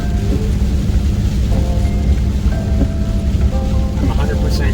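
Heavy rain pours steadily on a truck driving a road between farmland, a dense continuous wash of drumming water and road rumble with no clear pauses, close and loud throughout.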